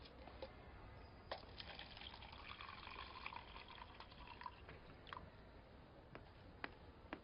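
Water is poured for a visitor in an indoor drama scene: a quiet trickle of liquid filling a vessel runs throughout, broken by a few faint clicks and knocks, with no speech.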